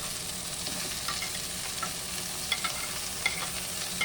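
Broccoli going into a pan of frying chicken, a continuous close sizzle with stirring scrapes and a few light clicks of a utensil, moderately loud and without voices.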